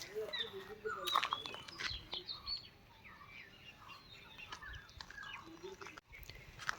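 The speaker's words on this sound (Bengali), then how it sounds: "মাঝে মাঝে পাখির আওয়াজও কিন্তু শুনতে পাওয়া যাচ্ছে" Birds chirp and tweet in short, scattered calls over a quiet outdoor background beside a tea garden in the Dooars near Gorumara, some calls close and bright, others fainter.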